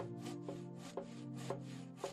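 A hand saw cuts through wood in a steady back-and-forth rhythm, each rasping stroke ending with a light knock, quiet and close.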